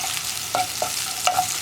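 Onions fry in a pan and are stirred, a close, loud sizzle broken by a few quick scraping strokes of the spoon, with no voices.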